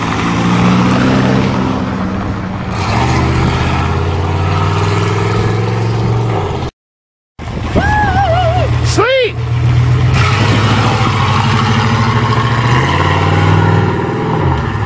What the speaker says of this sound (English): we're getting ready to try a real wheelie this time